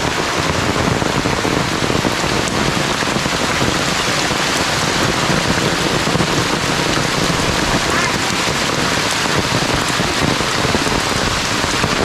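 A downpour of heavy rain drums hard and close on surfaces, forming a thick, unbroken wash of sound that holds steady and loud throughout.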